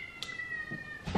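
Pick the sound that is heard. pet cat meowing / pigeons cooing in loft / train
pet cat meowing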